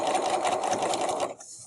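A sewing machine stitches a tote bag seam in one steady, close burst of whirring, then stops abruptly near the end of the clip, leaving only a faint hiss.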